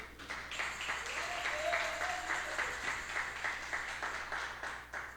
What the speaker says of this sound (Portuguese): Você que crê, aplauda ao Senhor.